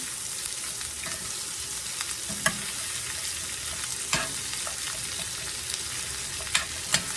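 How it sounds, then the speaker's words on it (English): Onions fry in oil for caramelizing, a dense continuous sizzle heard up close, with a few light knocks as they are tossed and stirred around the pan. "Toss them around in there. Get them coated in that oil that's in there."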